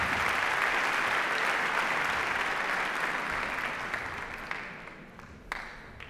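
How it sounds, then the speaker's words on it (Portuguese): A theatre audience at a TEDx talk in Porto gives a participant on stage a dense round of applause, loud at first and then tapering into scattered claps toward the end. "Salva de palmas para a Raquel"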